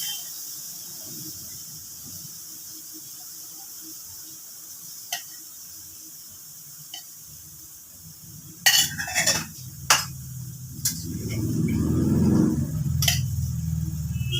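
Turmeric, chili and cumin spices fried with onion and garlic in a pan while cooking a fish curry, with metal spoon clinks and scrapes and then a rising sizzle as stirring continues, close and fairly loud.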